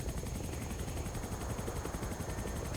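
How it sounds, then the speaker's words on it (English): A chopper in the Halo CE video game, XAM mod, flies with a steady rapid rotor thump and whine, loud and continuous, accompanied by gunfire-like bursts. "Maybe that's realistic for this kind of chopper"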